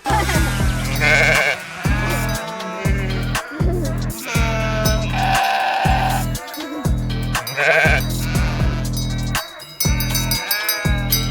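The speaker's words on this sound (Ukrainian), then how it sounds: "Кожна вівця тут має дзвоника та свій норовливий характер, який яскраво проявлявся саме під час процесу вечірнього доїння." Flock of Carpathian sheep wearing bells bleat repeatedly during evening milking, loud overlapping bleats in quick succession with bell clinks around them, close and busy throughout.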